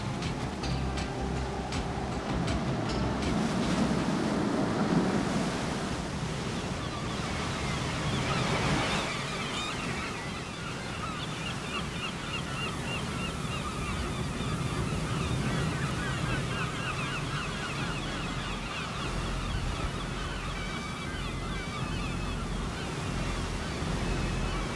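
Ocean surf pounds the exposed rocky point of La Torche in Finistère, Brittany, a surfing and windsurfing spot, as a continuous loud roar of breaking waves with gusting wind and no speech.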